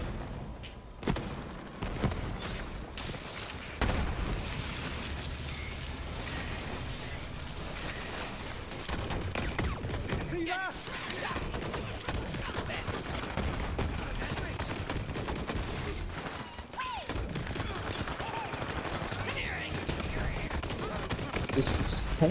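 Dense, rapid gunfire rattles almost continuously through a Borderlands 3 video game fight against a tank enemy, with bursts of automatic fire and thuds mixed with game effects, while players talk over it at times.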